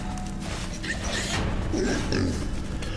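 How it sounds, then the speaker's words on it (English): Pigs oink and squeal amid muffled crunching in War For The Overworld, a dungeon-building strategy game with exploding pigs, the grunts coming in short bursts over steady low game ambience while a voice talks faintly underneath. "I'm more concerned by the exploding pigs."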